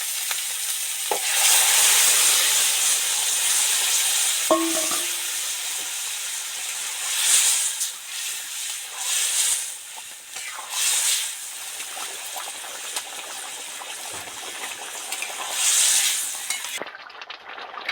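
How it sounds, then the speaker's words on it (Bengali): Pumpkin, potato and drumstick curry vegetables sizzle and hiss in a pan with deep-fried prawns, with steady stirring scrapes and an occasional metal clink over nearly eighteen seconds, no talking. "এবার এর মধ্যে এই তরকারিটা সাঁতাল দিয়ে দেব"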